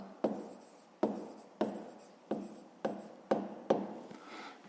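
Pen strokes scratch across paper while a math solution is written by hand, with about seven sharp-onset rubbing strokes in a steady rhythm, close and alone.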